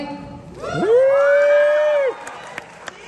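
Premiere audience at a My Hero Academia: You're Next screening cheering, a loud crowd roar rising and holding for over a second before fading, with a few claps and calls after it.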